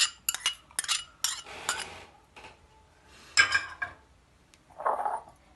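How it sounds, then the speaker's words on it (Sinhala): Cabbage vada ingredients being mixed in a bowl, with sharp utensil clinks and scrapes against the bowl in uneven bursts, close and fairly loud, then softer stirring and a muffled final clatter. "මේ ටික ටිකක් කලවම් කරගන්නවා"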